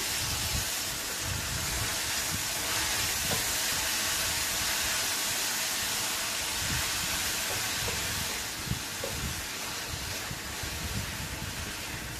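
Sliced beetroot frying in a pan over a low flame for an egg roll, giving a steady, soft hiss that continues unbroken throughout, with occasional faint pops.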